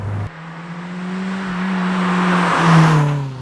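Supercharged Toyota hot hatch engine revving loudly and close, a steady droning note that climbs in pitch and swells toward the end, with no talk.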